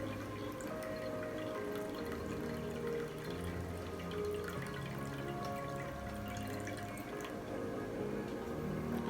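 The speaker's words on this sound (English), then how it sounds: "I want to pour enough water on this." Water poured into a flower vase for a freestyle ikebana arrangement, a continuous soft splashing and trickling stream lasting several seconds, close and fairly quiet, with no talking.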